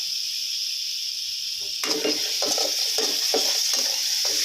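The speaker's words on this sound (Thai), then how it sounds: "ใส่รากผักชีกระเทียมพริกไทยที่เราโขลกเมื่อสักครู่ลงไปผัดให้หอมนะครับ" Pounded coriander root, garlic and pepper hit a hot pan with a little oil and sizzle steadily, while a utensil scrapes and stirs in quick, repeated strokes close by.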